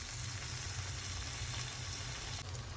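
Gravy for paneer butter masala sizzles steadily in oil in a pan, a close, continuous frying hiss with no voices over it.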